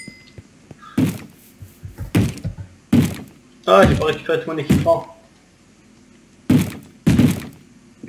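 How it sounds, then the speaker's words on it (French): Doors being smashed in a video game: a series of heavy, hollow thuds and crashing impacts, some close together and some spaced out, loud and close, with people talking excitedly between the hits. "Oh putain, il casse les portes."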